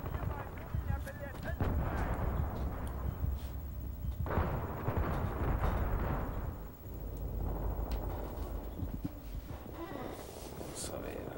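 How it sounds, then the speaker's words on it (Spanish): Battlefield 3 Operation Metro combat plays out in dense, continuous booms, blasts and bursts of gunfire that keep overlapping at close range, with a grenade going off amid the roar. "Debe haber aventado una granada."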